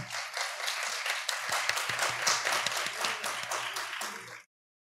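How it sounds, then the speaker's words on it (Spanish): Audience applauds a competition winner at a business plan pitch final, a moderate burst of scattered clapping over a low hum that stops abruptly near the end. "Vamos a darle un fuerte aplauso."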